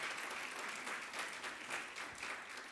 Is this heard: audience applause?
yes